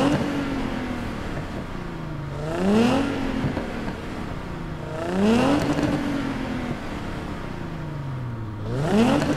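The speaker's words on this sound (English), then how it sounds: "I'm going to let you have a little listen to the Nissan GTR, so you can just have a little feel for it" A 2017 Nissan GTR in the Need for Speed racing game revs hard three times, each rising engine howl sweeping upward over a steady idle drone, loud and close with no talk.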